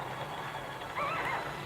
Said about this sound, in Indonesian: Lah kan naik kuda.